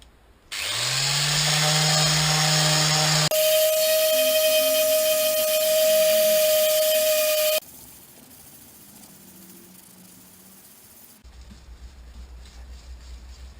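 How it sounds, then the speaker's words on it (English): A power sander works on the plug for a carbon fibre fishfinder pod for a Stealth kayak: a loud, steady motor whine with a sharp tone that runs for about seven seconds, then drops to a quieter hum and faint noise. "now I'm going to sand it"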